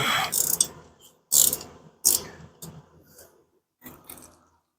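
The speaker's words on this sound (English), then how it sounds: "And then we want to go ahead and loosen the" A wrench loosening a brake line on a 2006 Chevrolet Kodiak 5500 truck: several separate bursts of ratcheting metallic clicking with short pauses between them, close and fairly loud, with no talking.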